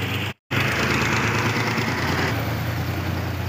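A tractor engine runs steadily at a farm house courtyard where soil is being filled, a loud continuous low rumble close by, with a brief dropout near the start.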